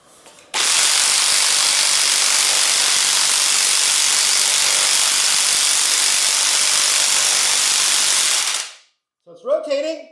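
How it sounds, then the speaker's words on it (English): Impact wrench hammering steadily for about eight seconds as it works loose a seized bicycle seatpost soaked in penetrating oil, loud and close, then stopping, followed by a brief squeaky mechanical sound. "this impact wrench is not super heavy duty"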